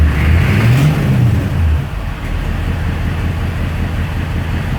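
A CUCV military pickup truck engine revs up briefly, then settles into a steady low idle rumble, loud and close.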